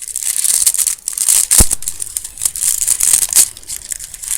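Thin foil being cut and crinkled at close range, a steady rustling crackle with a few sharper snips and tearing bursts, no talking.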